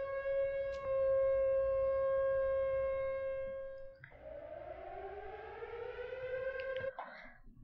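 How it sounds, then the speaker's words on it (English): An alarm tower siren in an Unreal Engine 5 game wails loud and steady, holding a tone before sliding downward, then cutting off near the end. "now when the siren goes off, they should disappear."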